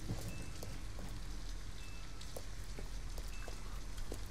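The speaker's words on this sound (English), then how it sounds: "At least we'd be out of the rain." Steady rain falling in the video game Detroit: Become Human, a soft, constant wash of patter with scattered droplet ticks and no voices.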